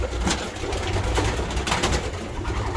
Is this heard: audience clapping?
no